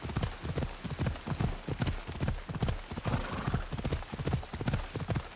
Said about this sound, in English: do you not hear a galloping horse?